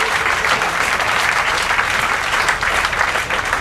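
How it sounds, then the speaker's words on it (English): Banquet audience applauds in a dense, steady burst of many hands clapping at once, loud and close, sustained without pause and with no talk over it. "Applause, applause, applause."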